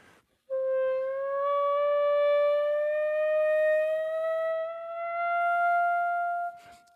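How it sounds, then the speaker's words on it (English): Clarinet glissando made by slowly sliding fingers off the keys, one sustained reedy tone rising gradually and evenly in pitch over several seconds, close and alone before stopping abruptly. "I can slowly slide my fingers off the keys"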